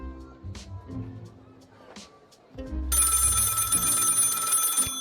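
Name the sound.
telephone ringing in a video game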